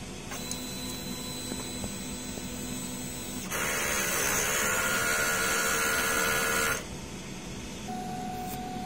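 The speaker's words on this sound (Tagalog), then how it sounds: "Mag-head clean naman po tayo. Pindutin natin ang clean, strong heads." A DTF printer runs a strong head-cleaning cycle. A steady mechanical drone with faint whirring changes pitch partway through, rises into a louder, brighter pump-and-motor noise for a few seconds, then drops back. No voices are heard.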